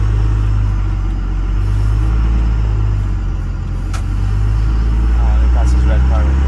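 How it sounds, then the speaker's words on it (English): A race pickup truck revs and launches from a brake boost on a road leaving a subdivision, a loud, deep engine drone dominating the cabin, with a brief rising whine near the end. "Let's do a quick brake boost out here once we get out to the road out of the subdivision."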